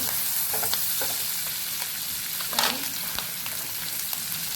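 Capsicum and garlic fry in a pan for a red chili sauce pasta, giving a steady close sizzle with occasional light stirring clinks and a brief louder scrape partway through.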